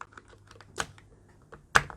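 Keys clack on an NPET K10 mechanical gaming keyboard, a few scattered presses followed by two sharper, louder strikes, close up in a quiet room with no voices.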